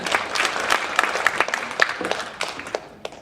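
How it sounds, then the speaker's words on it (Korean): A seated audience at a Korean charity forum event breaks into sustained applause, dense overlapping claps with a few sharper individual hand claps standing out, steady and moderately loud throughout. "다시 한번 큰 박수 부탁드립니다."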